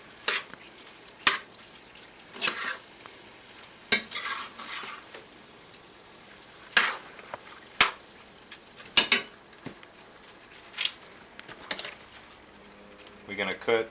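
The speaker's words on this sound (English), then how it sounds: "We'll stir it up. Where the seasoning's good and mixed up." Utensil scraping and stirring seasoning around a pan over medium heat, with irregular clinks and scrapes over a faint steady sizzle, while a person talks at times.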